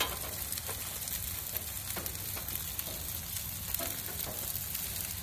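Fish and shrimp sizzle on a home grill with a constant close hiss and crackle and small popping spits, no voices.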